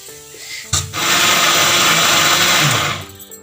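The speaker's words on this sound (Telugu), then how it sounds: "ఇప్పుడు బియ్యం కూడా రుబ్బుతున్నానండి" A kitchen mixer grinder churns soaked rice and dal into ragi dosa batter, a loud steady whirring roar that starts abruptly after a clunk, holds for about two seconds, then winds down.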